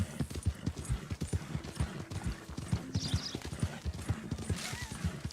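Steady, even clip-clop of a Chocolate Roan Dutch Warmblood's hooves in Red Dead Redemption 2, a quiet rhythmic trot with faint tack and ambient noise.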